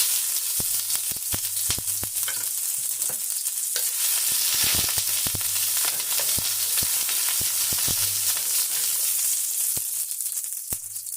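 Garlic and ginger fry in hot oil for egg fried rice, giving a loud, continuous close-up sizzle, with sharp clicks of a utensil scraping the pan scattered throughout.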